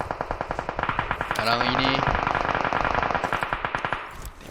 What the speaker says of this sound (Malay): tembakan akan dilepaskan semula